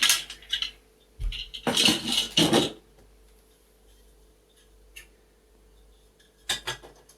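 Loose spare plastic keys from a Medeli electronic keyboard clatter and click as they are handled, with bursts of rattling around the first few seconds, then quiet, and another short clatter near the end.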